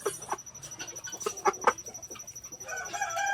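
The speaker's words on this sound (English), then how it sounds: "Those are some happy rooster noises." A one-legged rooster makes soft, happy clucks and short calls in a farmyard, several spaced bursts at close range, with faint background birds and no talk.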